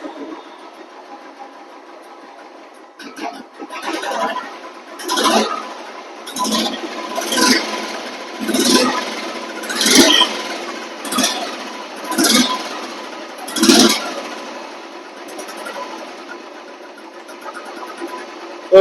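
A Royal Enfield Classic 350 motorcycle, freshly serviced and fitted with a new BS3 silencer, idles low, then revs in about nine repeated surges, each rising and falling in a rhythmic pattern before settling back to idle.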